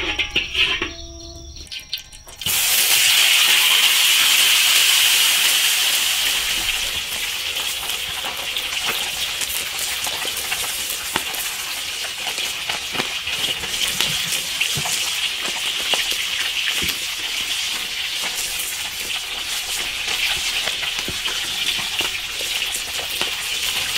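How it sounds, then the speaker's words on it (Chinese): Fish drops into hot oil in an iron wok and bursts into a loud, dense sizzle that gradually settles into a steady crackling fry, close and continuous with no talk. "烧油煎鱼"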